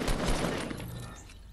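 Gunfire in a Fortnite Battle Royale match crackles in a quiet, brief flurry of overlapping shots that thins out and fades within about a second and a half.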